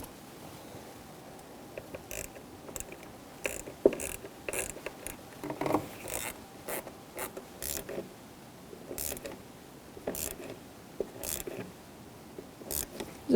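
A ratchet fitted with a 10mm swivel socket clicks in quick, uneven bursts while driving in the VVT solenoid bolt on a 2007-2017 Jeep Patriot 2.4L four-cylinder; close, dry and mechanical, with no talking.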